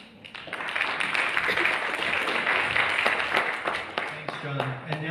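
Meeting audience applauding together, a dense sustained wash of clapping that holds steady for several seconds before tapering off as a voice begins to speak.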